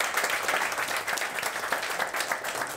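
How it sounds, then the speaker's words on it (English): A brief burst of applause from a whisky tasting audience in Stockholm, dense steady clapping lasting a few seconds. "Give Vicky a round of applause for us."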